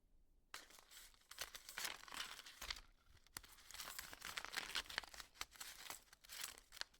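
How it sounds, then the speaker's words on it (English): Paper crinkles and tears as letters are opened, a continuous soft rustling and crunching that stays close and quiet, with no voices. "The soft crinkle of paper, the whisper of secrets from another time."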